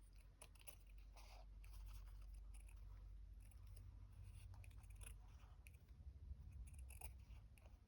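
Scissors making a slow, curvy cut through quilt fabric, heard as faint, soft snips and crunches over a steady low background hum.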